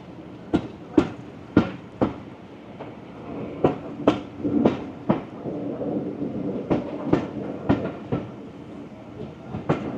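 A heritage train on the Severn Valley Railway during a Class 37 diesel birthday celebration, with wheels clacking over rail joints in an irregular rhythm of sharp knocks over a steady rumble, close and moderately loud.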